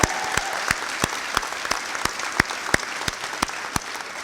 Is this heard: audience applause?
yes